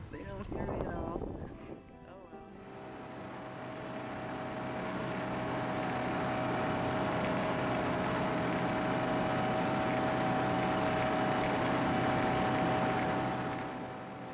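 A steady motorboat engine drones on and on near Coffman Cove, rising a little in loudness and holding close and continuous, with a faint whine and water rush beneath it.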